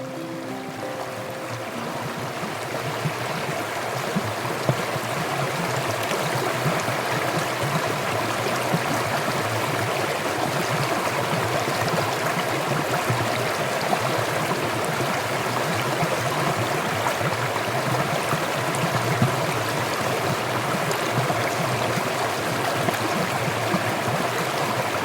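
An Alpine mountain stream and waterfall pour steadily in a continuous, full-bodied rush of water, unbroken and even from start to finish, with no voices present.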